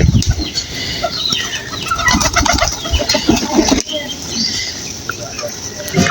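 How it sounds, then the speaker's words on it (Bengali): Sirazi pigeons coo in a busy loft among chickens. Wings flap in a burst midway, and a voice talks nearby, all close and fairly loud. "এটা সিরাজি কবুতর"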